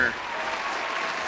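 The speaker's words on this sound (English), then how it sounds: "We have a big round of applause for Matt Alexander." A studio audience on a morning show applauds, a brief steady burst of clapping that stays even throughout with no voices over it.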